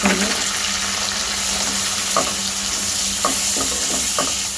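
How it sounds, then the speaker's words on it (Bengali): Shrimp fry with onions in hot oil, producing a constant close sizzle broken by a few soft stirring knocks. "পেঁয়াজটা ভাজা হয়েছে এখন চিংড়ি মাছটাও ভেজে নিয়ে"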